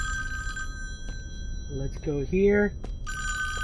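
Telephone bell ringing in the Friday the 13th game's Virtual Cabin, repeated electronic trills at the start and end, with a person speaking briefly in between.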